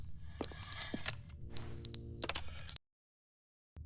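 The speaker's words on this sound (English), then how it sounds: "A fire alarm." Fire alarm in a video game sounding four loud shrill electronic bursts in two pairs, mixed with clanks and game noises, then cutting off abruptly into silence.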